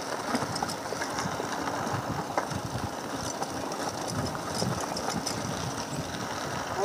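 A car engine runs steadily while driving, a rough mechanical hum with rattling and road rumble throughout, fairly close and constant.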